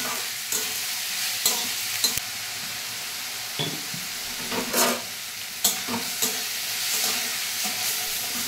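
Bottle gourd frying in a pan, a constant sizzle punctuated by repeated scraping and knocking strokes of a spatula stirring, close and without voices.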